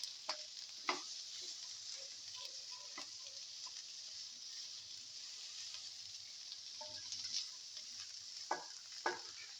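Ground chili and fennel seeds sauté in a pan for an okra coconut fenugreek pilaf, giving a soft continuous sizzle broken by occasional scraping stirs and light clicks of the utensil.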